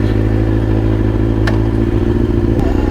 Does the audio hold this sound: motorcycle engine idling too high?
yes